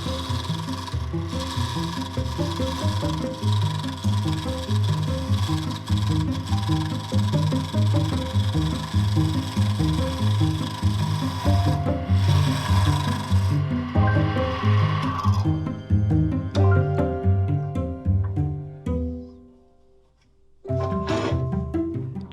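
Wood turning on a lathe with carbide tools while shaping a spinning top: a rhythmic scraping and rasping repeats steadily, the tone shifts as the cut changes, and the sound briefly dies down before resuming.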